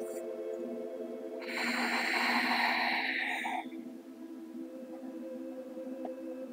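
During yoga practice, a single long exhale through the nose rushes out softly for about two seconds over a quiet room hum, faint and close.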